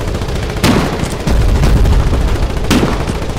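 Artillery and gunfire in the war game Foxhole during a city street battle: sharp bursts of shots and heavy booms thud at intervals over a continuous rumbling combat din, with two loud broadband blasts standing out.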